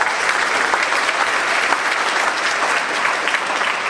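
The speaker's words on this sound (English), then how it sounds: "Please give them a round of applause." Concert audience at a choral performance breaking into loud, sustained applause, a thick even roar of many hands clapping without pause.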